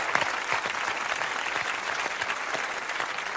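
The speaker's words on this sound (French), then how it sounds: "On est en train de vous applaudir" Audience applause on a French television talk show, dense and steady clapping held at one level from start to finish.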